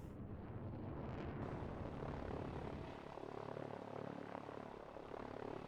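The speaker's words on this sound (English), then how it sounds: "We have the helicopters coming back in for a third round." Helicopters attacking tanks in the strategy video game Line War, a continuous rotor and engine roar with a rumbling battle wash, steady and fairly loud throughout with no speech.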